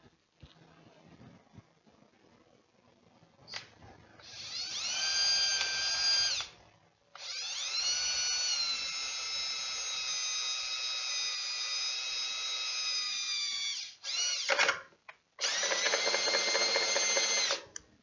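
An electric drill boring through wood for a beehive inner cover, a loud whining motor in several long bursts with short pauses between them, close up and without speech.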